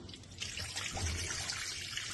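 Water runs into a pan to start a jaggery syrup for ragi dry-fruit sweets, a steady close splashing pour with no talk.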